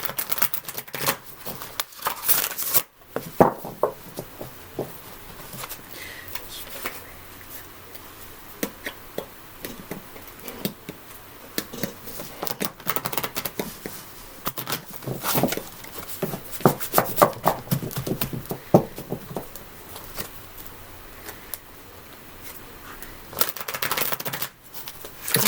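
Rapid riffling and flicking of a deck of cards being shuffled, crisp bursts repeating close by with short pauses between.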